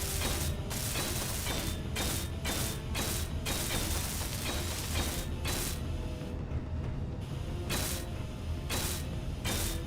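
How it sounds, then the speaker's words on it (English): Blocks being welded in Space Engineers, a steady mechanical whir with a dense run of rapid clicking bursts that repeat throughout, even and loud, with no talking. "Let's weld those bits up. Weld that up as well"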